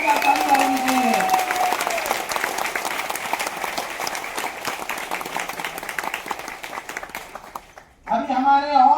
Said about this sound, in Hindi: हमारे सीएमडी सर के लिए जोरदार तालियां होंगे।